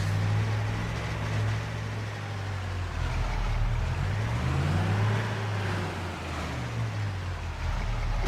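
A truck engine in Farming Simulator 25 drones steadily and loud, its low hum rising and falling slightly in pitch as it idles and revs, with no speech over it.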